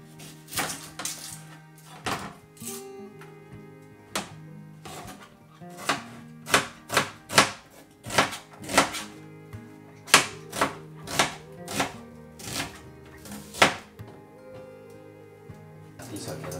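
An onion being chopped with a knife on a board in a hostel kitchen, a series of sharp close knocks in irregular bursts that quicken into a steady rhythm, with a voice talking at times underneath.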